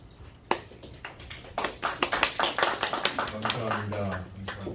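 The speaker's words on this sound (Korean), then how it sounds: "제가 박수 쳤어요" Hand clapping at the launch ceremony of a Christian newspaper's media broadcaster: a few isolated claps that quickly build into a fuller burst of applause, with a low voice starting underneath toward the end.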